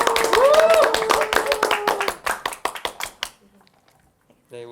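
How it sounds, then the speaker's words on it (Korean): A room of colleagues claps together to open a public teaching-demonstration class, a dense burst of handclaps that thins into scattered claps and fades out within about three seconds, with a voice briefly heard near the end. "우리 박수로 시작해 보도록 하겠습니다"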